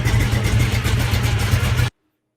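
A car engine running with a deep, rumbling idle that rises into revs, loud and close, cutting off abruptly into silence near the end.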